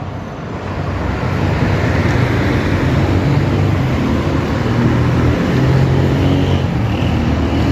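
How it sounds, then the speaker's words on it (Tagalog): Steady roar of highway traffic heard while walking along the roadside in the morning, a loud continuous rushing wash of passing vehicles with no break and no speech. "Nasa highway po tayo."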